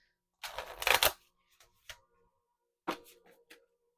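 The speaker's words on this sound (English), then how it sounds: "Shuffle these really quick" A deck of tarot cards is shuffled close up: a dense riffling burst, then a few short isolated card snaps and a second brief riffle, with silence in between.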